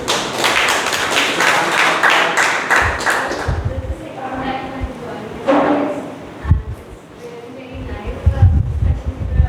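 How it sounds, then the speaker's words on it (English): Audience applause at a speaking club meeting, a burst of clapping from a small group that fades after a few seconds, followed by scattered taps, thumps and room sounds. "So please, a big round of applause for her."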